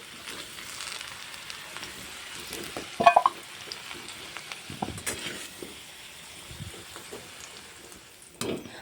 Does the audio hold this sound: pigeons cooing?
no